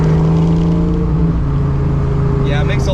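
A supercharged 1986 Ford Mustang GT Fox-body engine runs steadily up close, a loud, continuous low drone with a steady hum that holds for the whole stretch.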